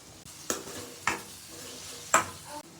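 Cabbage and capsicum stirred in a hot pan for fried rice, a soft continuous sizzle punctuated by three distinct spatula scrapes against the pan, close and steady, no voices.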